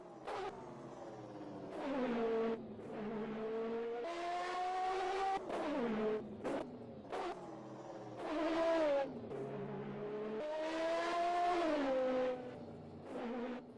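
A race car engine in a racing video game revs and shifts repeatedly, its pitch climbing and dropping through gear changes in a continuous whining drone at moderate level.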